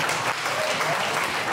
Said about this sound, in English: Approval by the crowd.